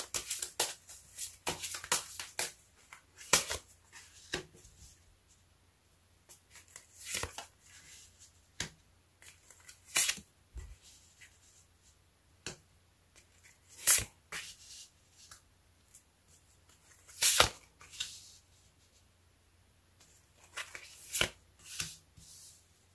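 Tarot cards are shuffled and drawn close up in bursts of crisp riffling, flicks and taps, each followed by quiet pauses, with no talking.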